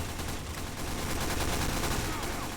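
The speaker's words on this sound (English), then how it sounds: "The SMG noises are so bad." Rapid, continuous SMG fire from the video game Team Fortress 2, a dense stream of gunshots lasting a couple of seconds at moderate loudness with no talking over it.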